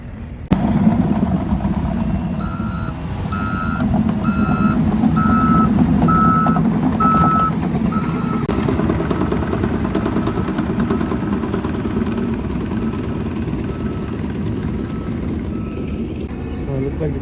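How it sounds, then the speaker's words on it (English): Kenworth W900B dump trucks with CAT C13 engines rumble loudly at a muddy site, their steady diesel drone joined by a repeating reversing beep for several seconds, with voices in the background. "Dump trucks are going in now."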